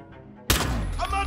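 Sudden loud gunfire in Hitman 2 breaking in after a quiet moment and continuing as sustained shots, with a voice speaking during it.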